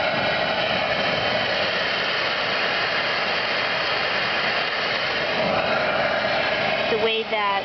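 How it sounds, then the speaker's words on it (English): A Dremel rotary tool powered by leg pressure whirs at a steady high, continuous whine, loud and close, with a brief change in pitch near the end. "putting pressure from the leg on the side here, which powers the Dremel"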